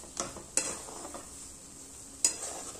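Puran, a lentil filling, stirred in a pan with a utensil: a soft sizzle under a few sharp scrapes and clinks of metal against the pan, close up with no talking.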